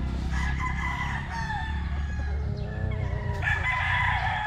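A quality stag, a late-born banded young rooster, crows loudly and close by, its harmonic call drawn out over several seconds with a brief second crow near the end, set against steady low farmyard noise.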